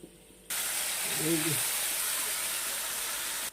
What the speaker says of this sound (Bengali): নুন হলুদ মেখে চিংড়িগুলা দিয়ে দিচ্ছি